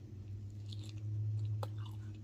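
Fried shrimp in a creamy almond sauce is chewed up close, giving soft repeated mastication sounds with a brief crunchy bite, no talking.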